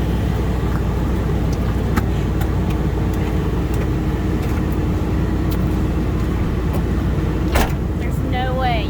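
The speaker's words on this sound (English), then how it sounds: "Me climbing through this 4Runner while we're driving down the road" A Toyota 4Runner drives down the road during a women's adventure rally across western North Carolina, giving a loud, steady in-cabin road rumble that runs the whole time, with a few faint knocks and rattles.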